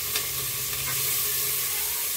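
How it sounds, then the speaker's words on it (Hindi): Peas going into a frying pan of onions, a steady sizzle with light stirring and a soft clatter near the start, no talking. "डालेंगे मटर"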